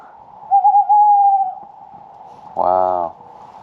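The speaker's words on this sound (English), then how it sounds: "Can you hear the owl?" An owl hoots close by at an off-grid rural site, a long wavering call followed by a shorter harsher hoot, standing out clearly against quiet surroundings.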